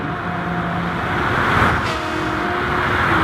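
A race car engine in Gran Turismo Sport at Bathurst holds a steady, loud drone while slipstreaming down the mountain straight, with no break in the sound.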